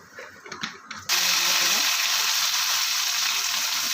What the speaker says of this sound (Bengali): পেঁয়াজটা একটু লাল হয়ে ভাজা হয়ে গেছে